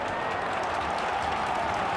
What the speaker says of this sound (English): Crowd urging them towards an equaliser.